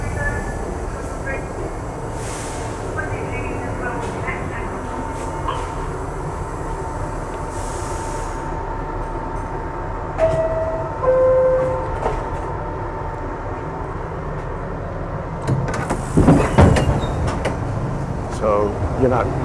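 A New York City subway train rides along with a steady low rumble and hum inside the car, punctuated by a few squeals and clattering bursts near the end, with faint voices underneath.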